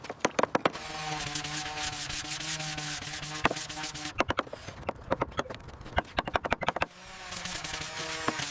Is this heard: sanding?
yes